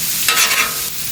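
Jerk shrimp fried rice is stirred on a Traeger Flatrock griddle, a brief scraping toss over a constant sizzle, close and fairly loud.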